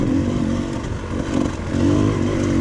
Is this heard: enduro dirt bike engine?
yes